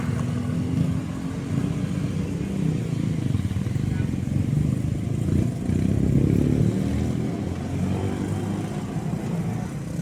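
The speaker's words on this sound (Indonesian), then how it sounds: "Para pengendara kendaraan roda 2 ya ini." Motorcycles idle and rev in a line at a railway crossing, a steady low engine rumble with clattering and small throttle surges, close and continuous for the whole stretch.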